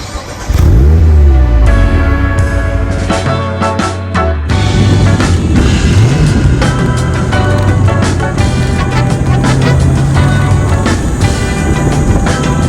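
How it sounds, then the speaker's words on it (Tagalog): A 2023 Mazda MX-5 roadster, the 25th Anniversary Edition with a 2-liter four-cylinder, starts, revs and pulls away, its engine loud and close, rising and shifting through gears under steady road and wind noise. "let's now start driving this car"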